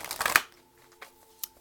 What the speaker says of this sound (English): I'm going to shuffle your cards one more time